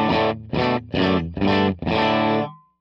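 Distorted electric guitar played through a Fractal FM9 amp model: five loud, sustained chord strums in a steady rhythm, the final one ringing out and fading.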